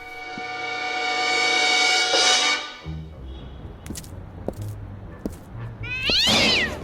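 A cat meows in a radio drama, one long loud wavering meow followed after a short quiet pause by a second rising cry near the end, with faint low noise in the gap and no talk.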